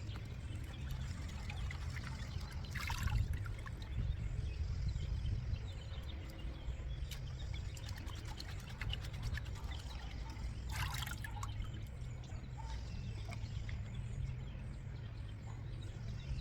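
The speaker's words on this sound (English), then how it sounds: "I'll grab a bucket of water so we can wash this root ball out and see what we're working with" Water is poured from a bucket over a plant root ball to wash out the dirt, giving a soft, steady trickle and splash that runs throughout, faint and low, with no talking.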